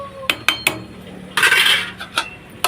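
A utensil stirring rice in a pot: a few sharp metallic clinks and taps against the pot, then a longer scraping stir, followed by more scattered clinks, all close and fairly loud.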